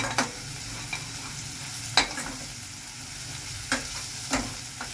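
Ginger, garlic and green chilli paste fries in a pan with a steady close sizzle, broken by several sharp scrapes and knocks of a spoon stirring it.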